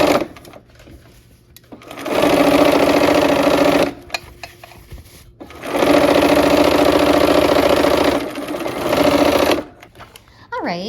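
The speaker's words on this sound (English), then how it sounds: "All right, let's go ahead and sew." A sewing machine stitches a quilt block in two long steady runs, each several seconds, separated by brief pauses with quieter handling sounds; close and loud.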